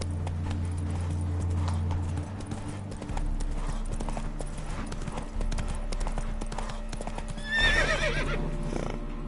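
Roach, a horse in The Witcher 3, gallops with steady clip-clop hoofbeats throughout, and a loud whinny breaks in near the end over game music and ambience.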